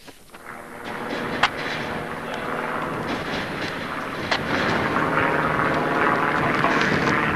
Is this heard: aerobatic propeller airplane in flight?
yes